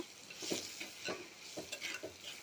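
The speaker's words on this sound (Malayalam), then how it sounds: "നന്നായിട്ട് ഇളക്കി കൊടുക്കാം" A spoon stirring chopped tomato with chili and coriander powder in a pan makes soft, repeated scraping strokes over a faint, quiet sizzle, close by and alone.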